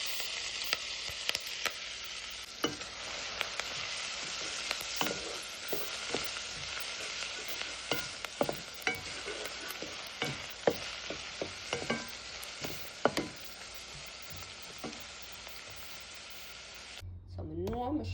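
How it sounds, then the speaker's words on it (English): Scallion, thyme, onion and hot pepper fry in a pot for corned beef seasoned rice, a steady loud sizzle broken by repeated spoon-scraping stirs, ending abruptly. "Now I'm going to go in with scallion, thyme, onion, hot pepper."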